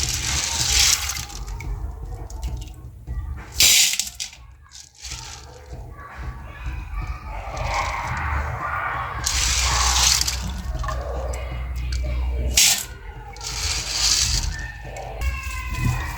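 Dry beans being rinsed by hand in a pot of water before soaking, with repeated splashing, swishing and trickling bursts close by, interrupted by short pauses and the odd clink.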